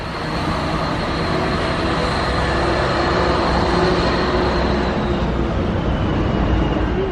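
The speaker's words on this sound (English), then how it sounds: "Here comes that little train shunting these wagons about." A small shunting locomotive moves wagons about in the Belgrade rail yard, giving off a steady, close mechanical rumble and drone that holds evenly throughout with no talk.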